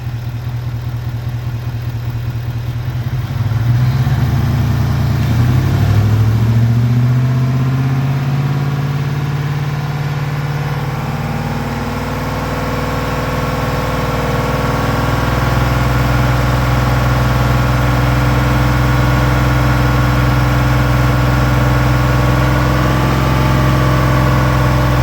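Ford F-150 engine raised from idle to about 2,500 RPM, a steady close engine drone that climbs in pitch a few seconds in and then holds a sustained hum, with no voices.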